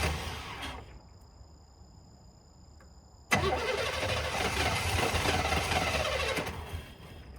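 Engine of a 1997 Chevy C1500 pickup left sitting for years cranks briefly, falls quiet, then catches and roars into a loud, steady rough rev close by before easing slightly.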